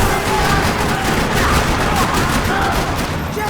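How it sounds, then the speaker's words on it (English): Dense, rapid gunfire in Max Payne 3 in a parking lot, a continuous rattling barrage of shots filling the clip at high volume. "Another parking lot rattling with gunfire."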